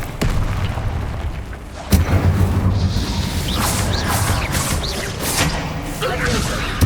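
Incendio fire spell cast during combat in Hogwarts Legacy: bursts of whooshing flame and booming impacts over constant battle rumble, with sharp hits at the start and near two seconds and a character shouting spell names between them.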